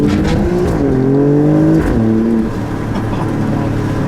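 Loud, close engine revving of an Alfa Romeo Stelvio Quadrifoglio, with rising and falling pitch through quick gear shifts, then easing to a steadier drone.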